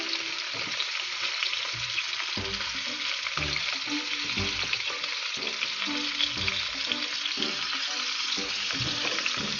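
Meat frying in a pan at home, a dense, constant sizzle with repeated utensil scrapes and knocks as it is stirred, close and steady with no talking.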